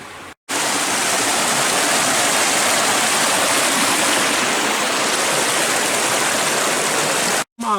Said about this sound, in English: Pretty little creek today.